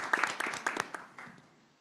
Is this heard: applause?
yes